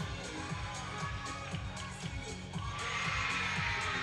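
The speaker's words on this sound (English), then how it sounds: "I can hear them cheering super loud in the background" A crowd of teammates cheers and shouts loudly at a women's NCAA gymnastics meet after a stuck dismount. The noise is dense and steady and grows louder in the last second or so.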